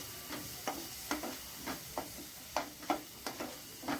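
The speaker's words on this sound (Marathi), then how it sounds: "छान मिक्स करून घ्यायचं आहे." A spoon stirs macaroni pasta with tomato sauce in a pan, Indian home style, as a steady series of about ten short scraping strokes with a faint sizzle beneath, close and alone.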